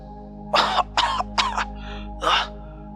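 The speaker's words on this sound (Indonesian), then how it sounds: "Raffi terbatuk-batuk dengan keras." Several hard, harsh coughs in quick bursts, four or five loud hacks with short gaps, close and alone with no talking.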